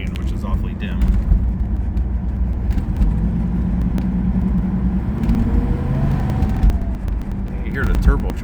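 A 1981 Pontiac Turbo Trans Am engine idles with a steady low rumble while the turbo spools faintly, with a rising whine near the end and occasional background talk.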